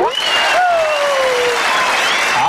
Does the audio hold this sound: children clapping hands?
yes